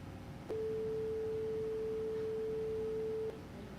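A higher, steady 440 Hz pure tone holds for nearly three seconds over faint background hiss, beginning and ending abruptly.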